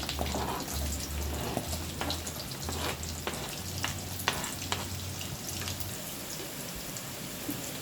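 Onions fry with cumin in hot oil in a kadai. A soft, steady sizzle runs throughout, with occasional light ticks of stirring over a low hum.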